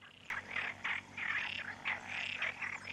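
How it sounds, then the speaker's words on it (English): Frogs in a garden pond croak in a dense, rhythmic chorus of repeated bursts, fairly quiet and steady with no voices. "The frogs have just decided to go berserk."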